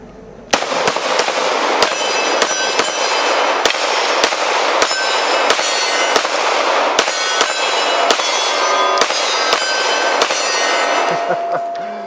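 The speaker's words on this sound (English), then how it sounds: "let's just shoot some stuff here." A CZ P-09 pistol fires a rapid string of loud shots at steel targets, each sharp crack followed by a ringing metallic clang, continuing steadily for several seconds with no talking.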